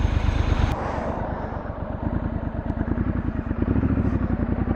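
A Triumph Scrambler 1200 XC motorcycle pulls away at low revs, a loud, close, throbbing engine rumble with steady pulsing beats mixed with wind buffeting.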